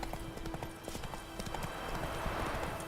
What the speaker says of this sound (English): We're gonna blast through this one with the horse.